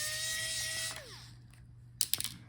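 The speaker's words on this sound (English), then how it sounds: "Now unscrew the screw on the top" A small electric screwdriver whirs on a screw inside an Acer Nitro 5 AN515-57 laptop, its whine winding down, followed by a few light clicks and taps nearby.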